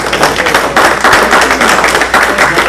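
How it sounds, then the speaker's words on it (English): A room of Rotary club members at a meeting clapping for a visiting Rotarian, a close, loud burst of many hands with distinct individual claps and a few thumps running throughout. "Let's give Bill a big round of applause."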